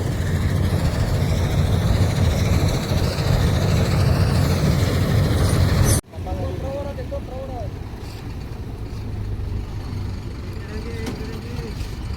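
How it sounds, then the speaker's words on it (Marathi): A wheat threshing machine runs nearby with a loud, steady mechanical drone for about six seconds. It then cuts abruptly to a quieter background hum, with voices faintly audible. "तर आपल्या इथं गव्हाची मशीन चालली आहे इथं"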